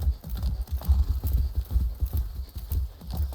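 A horse's hooves clip-clop steadily uphill on a hard road, loud and close, in an even walking rhythm with no voices.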